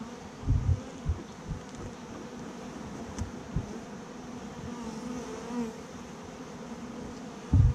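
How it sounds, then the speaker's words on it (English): A swarm of honeybees hums steadily and faintly as they fly into a removal box during a Portland hive removal, with a few soft dull knocks under the continuous drone. "You want the bees still going in there."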